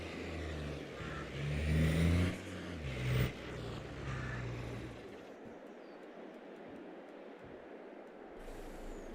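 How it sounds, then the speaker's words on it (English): Diesel tractor engine in the Farming Simulator 22 video game, a loud heavy rumble that revs up and swells twice before settling into a quieter mechanical whir with intermittent clunks. "This thing sounds like a freaking diesel doing tractor pulls."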